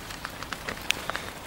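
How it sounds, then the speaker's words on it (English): Light rain beginning to fall outdoors, heard as faint, irregular patters and ticks of drops landing on a surface close by, with no talking. "just starting to rain."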